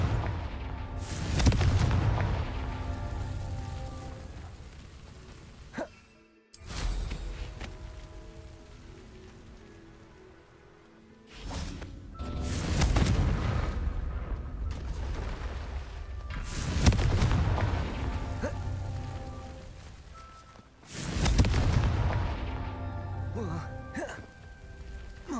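Fire spell explosions from Confringo in the video game Hogwarts Legacy: several loud, booming bursts roughly every five seconds, each decaying into a crackling rumble, with brief quieter gaps between.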